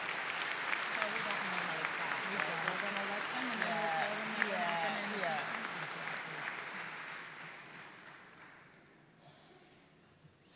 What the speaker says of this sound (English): We let you clap that time